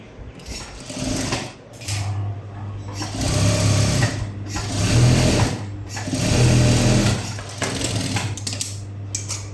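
A sewing machine stitches the front yoke of a blouse in three bursts of rapid mechanical whirring, each several seconds long, separated by short pauses with light handling clicks.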